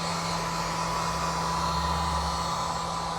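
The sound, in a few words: heat gun heating glue on car trim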